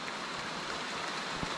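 Rain falling on a dark night, heard as a steady, even hiss of drops with no voices over it for a moment.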